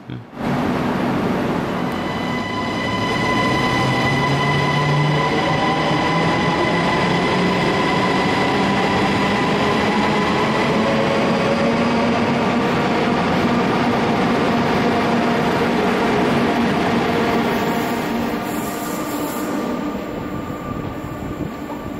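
A Brussels metro train rumbles loudly and steadily for a long stretch through a disused ghost station, with droning motor tones gliding in pitch and a faint squeal near the end.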